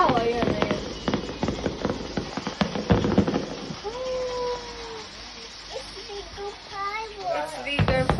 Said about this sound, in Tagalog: It's bigger fireworks.